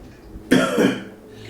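A single close, loud cough bursts out abruptly, a harsh throaty rasp lasting about half a second before fading back to quiet.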